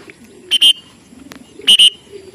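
Pigeons on a truck give two close pairs of short, sharp calls about a second apart, loud and near over a quiet background.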